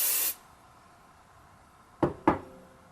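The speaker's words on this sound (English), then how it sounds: "Give that a spray." Hairspray misted onto vintage victory rolls in an updo: one long spray hiss at the start, then a quiet pause and two short sharp puffs close together near the end.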